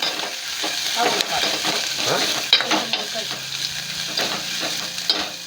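Food is stirred and mixed in a cooking pot over heat, with repeated scraping strokes over a steady sizzle and clinks of the utensil against the pot at close range.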